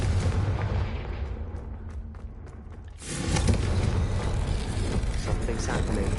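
A Confringo fire spell blast in Hogwarts Legacy on PS5: a loud, sudden burst erupts around the third second and carries into a sustained roaring rumble after a quieter stretch of ambient game sound.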